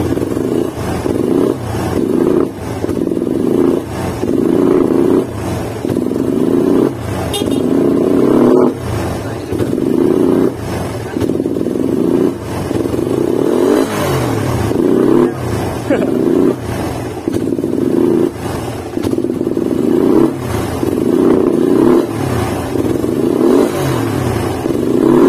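A motorcycle engine idles and runs steadily just after a new camshaft has been fitted, a continuous loud mechanical drone with a rhythmic clattering pulse throughout, while people talk over it.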